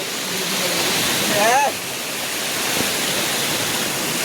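A waterfall roars in a steady, loud broadband rush throughout, with a voice briefly rising over the water noise near the middle.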